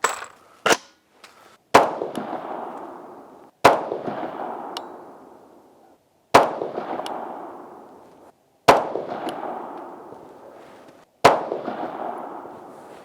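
Crusader Arms Templar rifle firing PMC Bronze 55 grain .223 rounds: six sharp, loud shots spaced a couple of seconds apart, each followed by a ringing decay, with a couple of faint clicks near the start.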